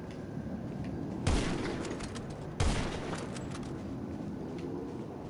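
Assault rifle fire in GTA Online, heard as two sharp, loud shots or bursts a little over a second apart, set over constant game background noise.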